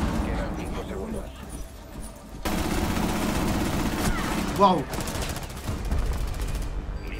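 Gunfire in the tactical shooter Rainbow Six Siege, a dense stretch of rapid shots and bursts running through most of the round, with a brief exclamation from a player partway in.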